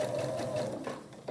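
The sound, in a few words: sewing machine stitching quilt block strips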